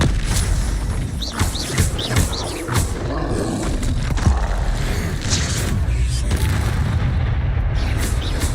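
Confringo explosive spells blast repeatedly in Hogwarts Legacy, loud booming impacts with roaring bursts following one after another over a dense, continuous wash of battle noise.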